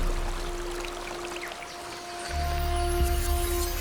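Water trickles and pours steadily in a small stream, a continuous close hiss of flowing water with a slight swell in volume partway through and no voices.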